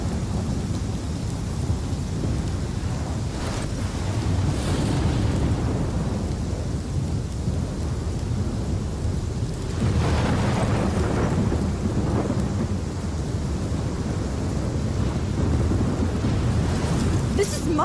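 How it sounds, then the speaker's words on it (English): Thunderstorm in the video game Life is Strange, with steady loud rain and wind throughout and rolling thunder rumbles swelling around the middle and end. "This is my storm."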